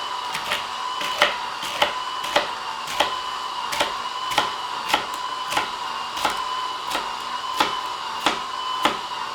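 A Shine XL, Dash or Breville Juice Fountain Plus juicer runs with a steady, loud motor whine, broken by regular sharp ticking or clacking pulses roughly every half second.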